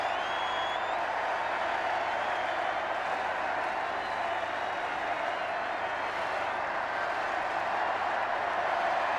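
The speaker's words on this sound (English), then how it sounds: "they're going to cheer until they're hoarse" Huge crowd outside Buckingham Palace on the royal wedding day of Prince Charles and Princess Diana, a steady, distant roar of cheering and clapping that stays constant throughout, with no single voice standing out.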